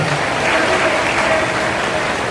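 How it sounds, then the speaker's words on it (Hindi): Loud, steady crowd applause at a large public gathering with Yoga guru Baba Ramdev in Bhiwandi, a dense unbroken wash of clapping from many hands. "एक बार जोरदार ताली बजा दो"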